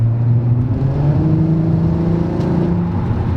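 A VW R32 drives on a rainy highway with its windows closed, its engine droning loud and steady as it accelerates and its pitch climbs gradually.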